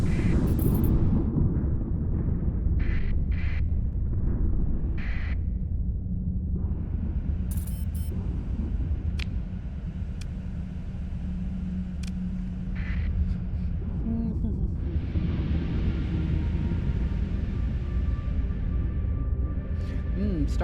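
A hyperspace storm in the space game Starsector gives a low, continuous rumble under intermittent game effects, with a person talking over it throughout.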